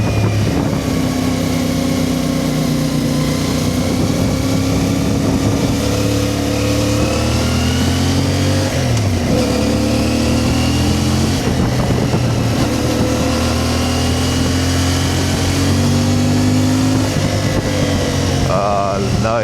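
Steady engine drone of a vehicle accelerating along a narrow village road with light traffic, loud and continuous throughout with shifting pitch as it revs, with some wind noise.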